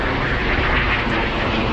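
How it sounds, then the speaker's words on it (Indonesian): Loud, steady roar of fighter jets passing overhead during a parade on Turkey's national day, a continuous broadband rumble filling the whole clip with no voices. "di langit juga tadi ada parade pesawat tempur gitu ya"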